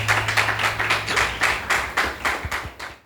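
A small group claps at a French talk on executive secretarial and assistant work, the strokes loosely synchronized into a rhythmic pulse of close, fairly loud bursts for about three seconds.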